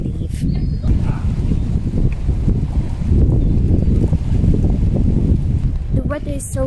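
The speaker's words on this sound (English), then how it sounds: "It's just chilly. It's so windy." Strong, chilly wind buffets the microphone in low, continuous rumbling gusts at Presthaven Sands, North Wales, with brief rustling and a faint chirp near the end.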